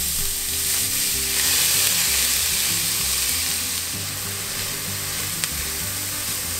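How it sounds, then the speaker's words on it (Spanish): Chopped onion and corn kernels frying in hot oil in a skillet: a loud, dense, continuous sizzle with a few soft shifts as the pan is stirred, and one small click near the end. "En un sartén con un poco de aceite caliente, comenzamos por freír la cebolla picada y los granitos de elote"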